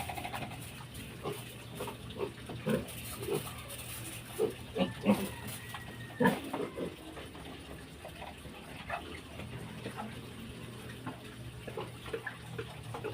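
Piglets on a pig farm give faint grunts and squeals amid steady background noise and trickling water, with a few sharper close bursts.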